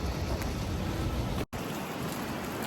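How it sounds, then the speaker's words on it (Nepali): Light rain falls outdoors as a steady, even hiss of drops, broken by one brief cut to silence partway through, with no voices. "थोरै चाहिँ अलिअलि छिटाएको रहेछ पानी पर्दै रहेछ"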